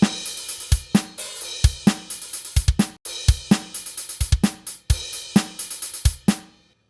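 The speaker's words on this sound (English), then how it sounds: "So now the hi-hat sounds a lot less static when it's playing quickly" A programmed drum pattern with velocity-varied hi-hat samples plays quick, bright hi-hat strokes that shift slightly in loudness over steady kick and snare hits, running as a tight, repeating groove before ending.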